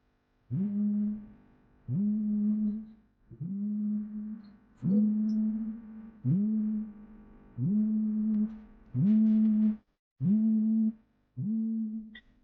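A voice imitates a vibrating mobile phone, giving about nine buzzing pulses in a steady rhythm with short pauses between them. The sound is close and clear, with no other sounds around it.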